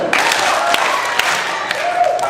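A church crowd at a Vacation Bible School closing bursts into big rhythmic power claps, a few sharp broadband hits standing out over steady crowd noise and cheering.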